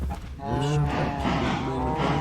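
Cows moo in the video game Minecraft, several drawn-out lowing calls overlapping close by in a farm enclosure, with no talking.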